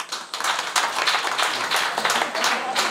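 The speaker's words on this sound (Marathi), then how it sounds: "इकडं डबल टाळ्या" Audience at a Marathi kirtan applauding: dense, sustained crowd clapping, loud and close, filling the whole stretch without pauses.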